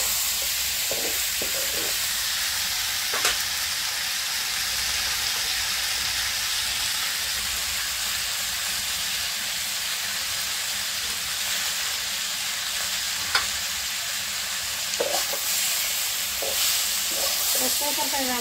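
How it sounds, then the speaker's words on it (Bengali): A curry of potato, tomato and pabda fish cooks in a pan with a constant loud sizzle and hiss, with a few brief clinks and stirring scrapes over it. "এদিকে একটা তরকারি রান্না হচ্ছে"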